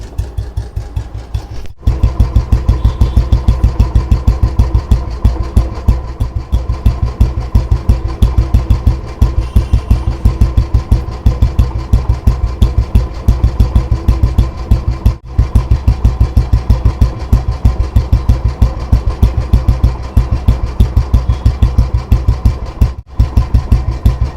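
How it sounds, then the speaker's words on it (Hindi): A single-cylinder Royal Enfield Bullet motorcycle engine idles steadily for a long stretch, its deep, even thump-thump beat close and loud. "अब आप इसके इंजन का साउंड सुनो।"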